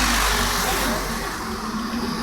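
Tractor engine running at a tractor fair in Talwandi Sabo, a new model 744: a loud, steady close-up engine drone with broadband rumble and slight revving, continuous throughout and not masked by any talk.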